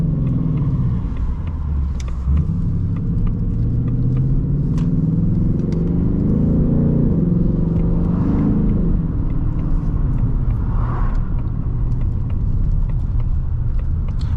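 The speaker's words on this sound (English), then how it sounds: "Those downshifts, crazy. Downshift crazy." A 2024 Mustang GT V8 rumbles loud and close through a downshift, its deep engine note rising and falling steadily with a few faint clicks over the top.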